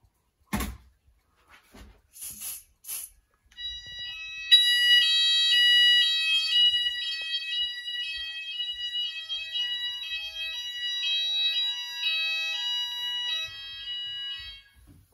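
An Apollo XP95/Xpander fire alarm system goes off during a house system test after a smoke detector is sprayed: a few clicks and knocks, then a loud, steady, pulsing electronic tone that keeps sounding.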